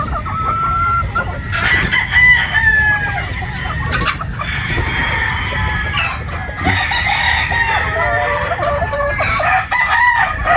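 Possum breed chicken pullets, a flock of about thirty, crowing and clucking repeatedly at close range, with overlapping calls throughout and steady farmyard background noise.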